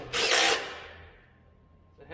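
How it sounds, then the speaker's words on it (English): Power nut driver whirring in a short loud burst of about half a second, then its sound fading away, followed by a faint brief buzz. "nut driver, I tell you."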